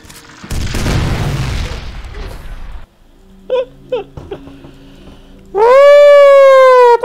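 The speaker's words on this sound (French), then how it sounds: "J'ai balancé une grenade à ce moment-là" A grenade detonates in the shooter game F.E.A.R. as a heavy, rumbling boom that lasts a couple of seconds. A few sharp pops follow, then a loud sustained synthetic tone rises and holds steady to the end.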